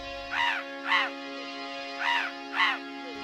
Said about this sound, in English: In response, a flock of birds answers him as they gracefully swoop by through the air.